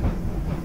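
The Disneyland Railroad train arrives at Tomorrowland Station with a steady low rumble and faint hiss, continuous and fairly loud, with no clear voices.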